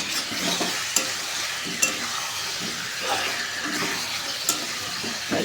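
Chicken curry pieces, leg pieces included, stir-fried in a pan: a continuous sizzle with scraping stirs and sharp utensil clinks against the pan every second or so.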